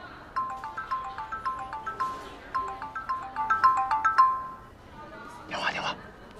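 A phone ringtone chimes in a repeating melodic pattern at moderate loudness for several seconds, followed by a brief noisy rustle, in a drama scene.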